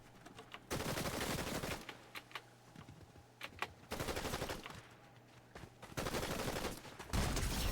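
Gunfire in Fortnite from a shotgun comes in several loud, rough bursts lasting about a second each, with quieter gaps and faint clicks between them.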